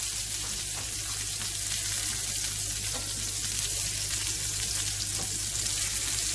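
Salisbury steak patties fry in a pan with a steady, dense sizzle and crackle throughout, close and even, with no talking.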